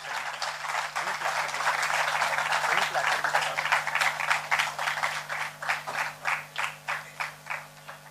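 An audience claps to welcome a guest onto the stage at a university Hindi department event, a dense wash of applause that thins into slower, distinct claps toward the end.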